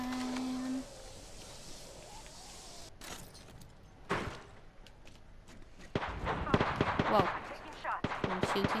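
Gunfire in the Apex Legends video game: sharp single shots, then a dense rattling burst near the end, mixed with other game effects and talk.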